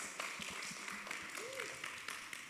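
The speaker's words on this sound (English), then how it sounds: "a round of applause as we welcome Mr. Abraham Babaringi" Faint, thin clapping from a bootcamp audience welcoming the founder: scattered claps in an uneven patter, soft and somewhat distant, with a murmur of voices beneath.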